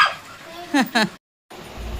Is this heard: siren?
no